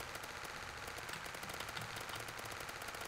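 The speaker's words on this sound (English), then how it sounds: "Look how fast I shoot." Rapid automatic gunfire in the Roblox zombie game Zombie Rush, a dense, continuous burst of shots running loud and steady throughout with no talking.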